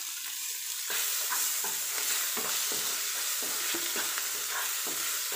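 Tomato frying in a pan for aloo moongre, stirred with a spatula: steady close sizzle with repeated scraping strokes at an uneven rhythm, no voices.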